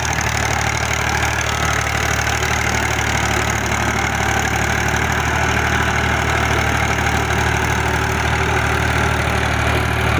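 An old 1979 Fiat 480 single-lever tractor labours with a steady, throbbing diesel drone as it drags a large 60-blade rotavator through soil, loud and continuous with no pauses and no voices.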